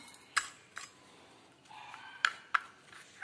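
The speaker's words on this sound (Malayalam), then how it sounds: "നമുക്ക് ഇതപ്പോൾ മിക്സ് ചെയ്തിട്ട് കട്ടങ്ങളൊന്നും ഇല്ലാണ്ട് നന്നായി മിക്സ് ചെയ്തിട്ട്" A spoon clinks and scrapes against a bowl while mixing a gram flour and curd face pack, with several sharp taps spaced through a quiet background.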